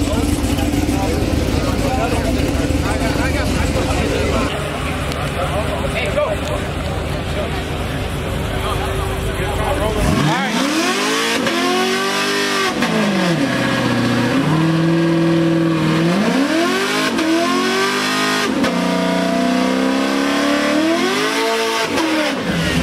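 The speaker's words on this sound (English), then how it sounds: "He lets that thing bang off the fucking rev limiter." A cammed Chevrolet Camaro SS at a street-race meet, loud engine noise and revving with rising and falling pitch sweeps, close by, with people talking around it.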